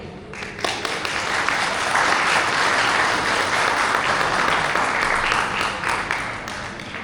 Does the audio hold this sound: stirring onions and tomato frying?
no